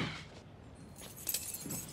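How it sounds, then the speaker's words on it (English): A set of car keys jangles briefly as it is tossed through the air, a short close metallic jingle with a sharper clink near the end, no voices. "Toss me the keys."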